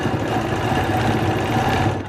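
A sewing machine stitches wavy quilting lines along rulers on a Penguin Parade quilt, its needle running in a fast, steady, close mechanical whir for the whole stretch with no pauses.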